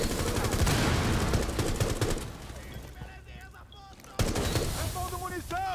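Rapid bursts of Rainbow Six Siege gunfire crackle loudly, fading into a quieter lull before another sharp volley erupts, with speech-like sounds mixed in.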